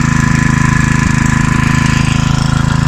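A small engine runs a water pump draining a pond ahead of dredging, giving a loud, steady, close droning hum with an even pulsing throb and no break.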